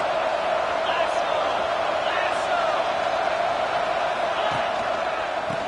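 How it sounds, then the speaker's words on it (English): Football stadium crowd roaring for the defense in the red zone, a continuous distant wash of cheering and whoops running steadily throughout. "And the crowd coming to life here, trying to help this defense down in the red zone."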